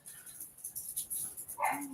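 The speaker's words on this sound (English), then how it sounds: "And here we go with the dogs." Dogs bark indoors; one short, fairly faint bark stands out near the end over a low, steady background.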